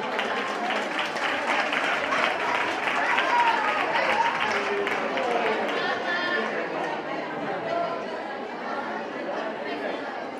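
A carnival children's contest audience in Chillón applauds and chatters continuously, a dense wash of clapping and crowd noise with voices mixed in throughout.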